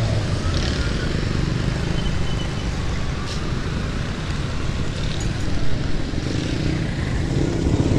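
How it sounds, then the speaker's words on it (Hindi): Heavy, continuous street traffic on a damaged, flooded road in Karachi, a dense steady roar of engines close by with passing vehicles and faint voices mixed in. "हेवी ट्रैफिक है।"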